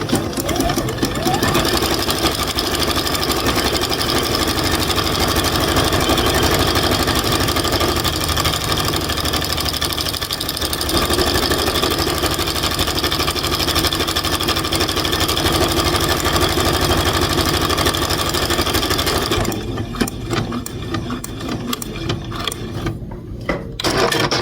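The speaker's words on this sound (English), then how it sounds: "And now I'm going to lower my presser foot and hit the gas." A sewing machine with a buttonhole attachment stitches a buttonhole in a loud, steady run of rapid mechanical whirring that goes on for about twenty seconds before slowing and stopping near the end.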